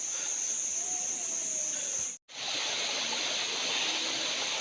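Steady rushing water of the Bua Tong waterfall, a constant broad roar that cuts out for an instant midway, then resumes.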